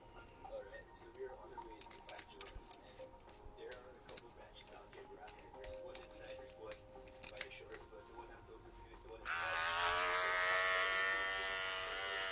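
An electric shaver buzzes steadily at close range during a New Year shave, its tone shifting as it moves over the skin, then swelling into a louder, brighter whir near the end.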